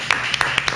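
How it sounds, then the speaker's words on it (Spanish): A few sharp hand claps ring out in a studio as a doctor is welcomed onto a Spanish-language TV show, brief and uneven, without speech. "un aplauso fuerte"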